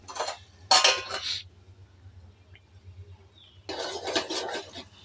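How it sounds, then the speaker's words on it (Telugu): Mixed vegetable curry, African style, stirred in a metal pot over a medium flame, giving scraping clinks of a spoon against the pot in two short bursts with a quiet gap between them. "ఇలా మధ్య మధ్యలో ఒకసారి కలుపుకొని ముక్కలు ఉడికాయో లేదో చెక్ చేసుకోవాలి."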